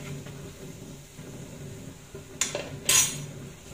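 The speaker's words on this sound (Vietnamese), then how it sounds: "Khuấy đều lên." A spoon clinks twice against a metal pot while stirring salt into boiling water, two sharp clinks near the end over a low simmering background rumble, no voices.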